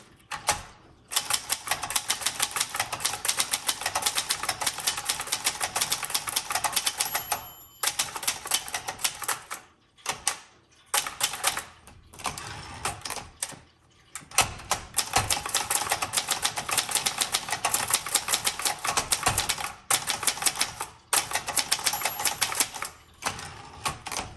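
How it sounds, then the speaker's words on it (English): Typing on a 1972 Brother Wedgefield 200 typewriter: rapid, close, crisp key strikes in bursts, broken by short pauses and occasional carriage or bell sounds, with no talking. "I so far am loving this typewriter."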